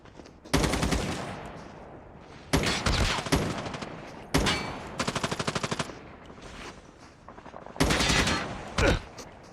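Call of Duty game gunfire: loud bursts of rapid automatic shots come in four long volleys with short gaps, close and dominant, with a faint voice underneath.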